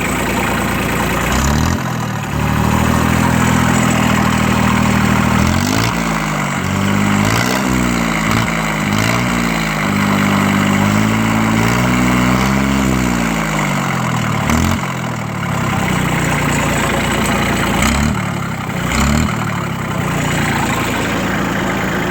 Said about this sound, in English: And it sounds just like this because the old muffler is rusting out